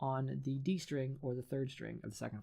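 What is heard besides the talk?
No everyday noise stands out behind the speech.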